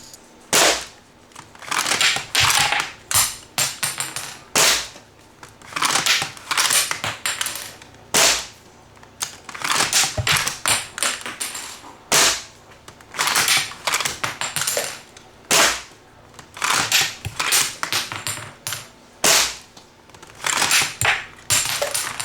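Burst+ blaster by T238 is fired through a magazine indoors in a dark room: sharp, loud bursts in rapid clusters of shots with short pauses between them, carrying on for over twenty seconds.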